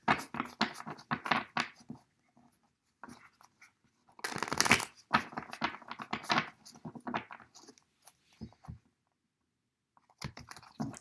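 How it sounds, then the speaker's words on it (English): Tarot cards shuffled in repeated bursts of crisp riffling and patting, close and fairly loud, with brief pauses between rounds and no talking. "I'm going to shuffle 3 more times."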